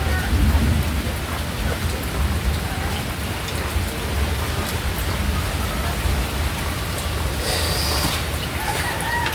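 Heavy rain pours down in a thunderstorm, a dense, steady hiss of drops hitting surfaces with low thunder rumbling beneath, loud and unbroken throughout.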